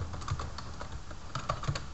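Quiet, close typing on a computer keyboard, a quick run of light key clicks with brief pauses, no talk.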